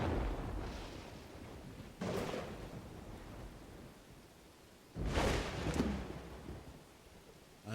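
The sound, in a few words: lightning strike in the video game Dawn of Man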